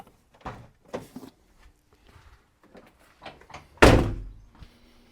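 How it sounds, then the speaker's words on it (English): The bonnet release on a VW T6 Transporter is pulled, giving a sharp, close thunk after a few soft clicks and rustles of handling, then a short fading rattle. "So on the T6 Transporter, your bonnet release is here."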